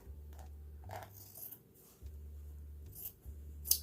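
Scissors trimming glued fabric off a handmade journal cover made from junk mail, a few short close snips separated by quiet pauses with no talk.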